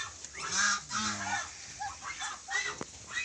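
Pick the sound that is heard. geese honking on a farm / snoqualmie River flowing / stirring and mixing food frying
geese honking on a farm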